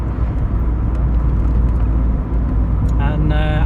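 A 1984 mk2 Vauxhall Cavalier on the road gives a steady low engine and road rumble from inside the car, with a brief voice-like tone rising near the end.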